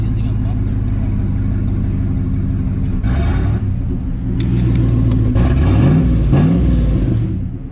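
A car engine runs through a muffler with a deep, steady low rumble close by, briefly swelling as it revs higher in the middle before settling back to an even drone.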